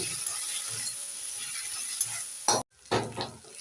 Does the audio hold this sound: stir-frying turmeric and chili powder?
yes